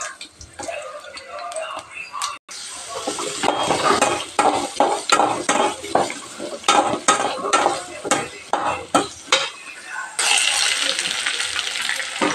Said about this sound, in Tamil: காயை ஃப்ரை பண்ண போகிறேன்.